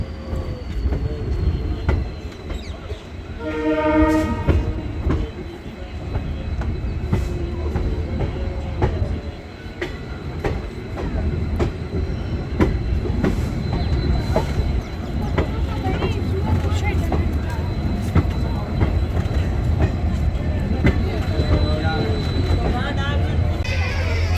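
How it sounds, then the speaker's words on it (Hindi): The 14526 Shri Ganga Nagar–Ambala Cantt Intercity Express pulls into Malout railway station. A heavy, steady rumble of rolling wagons and wheels runs throughout, with a short rising squeal near the start and voices faintly underneath. "भाई अपनी ट्रेन पहुंच रही है मलोट रेलवे स्टेशन।"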